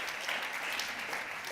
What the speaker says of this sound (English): Once again, your applause, Julia and colleagues.